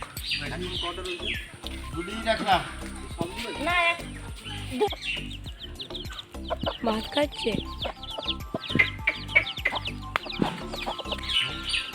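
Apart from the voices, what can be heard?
chickens and roosters clucking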